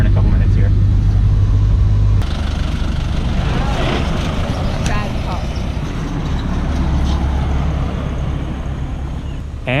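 A car driving a short stretch to a beach on Ko Lanta, Thailand, with a loud steady engine drone and road rumble throughout, a low hum shifting partway through.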